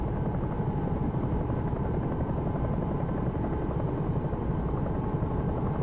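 A Bell 222 twin-engine air ambulance helicopter in X-Plane 11 flies over London, its rotor giving a steady, loud, dense thrum with no pauses and no voices.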